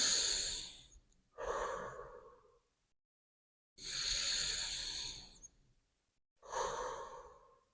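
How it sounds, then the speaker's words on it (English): Two slow, deep breaths are drawn in and let out close to the mic, each breathy inhale followed by a long airy exhale, with silent pauses between them. "Take 2 deep breaths in and out."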